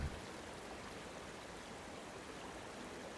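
Rushing water from a waterfall in a PvP video game match, a steady broadband wash of spray and flow running continuously and evenly at moderate level, with no talk over it.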